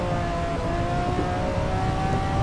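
A 1966 Formula 1 race car in Assetto Corsa holds a steady, loud engine drone at Spa in the rain, with a constant high whine and no speech.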